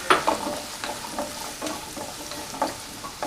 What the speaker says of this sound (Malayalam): അതിട്ട് നന്നായിട്ടൊന്ന് മിക്സ് ചെയ്ത് ഒരു ബ്രൗൺ കളർ ആവുന്നവരെ നമുക്കിതൊന്ന് വഴറ്റിയെടുക്കാം.